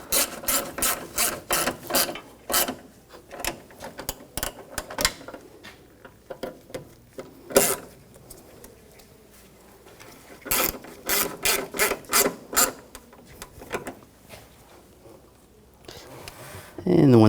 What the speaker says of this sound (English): put these bolts in and tighten these down.